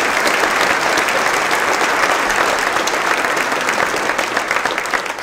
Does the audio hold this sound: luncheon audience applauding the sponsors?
yes